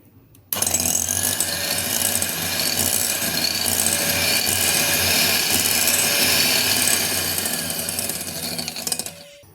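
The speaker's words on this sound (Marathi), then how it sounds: "आता दही घातलं की आपल्याला हे दोन्ही मिश्रण फेटून घ्यायचे हँड मिक्सीने" A hand mixer whirs steadily at full speed while beating curd and oil together for a chocolate cake batter. The buzz runs loud and continuous for several seconds after a sudden start.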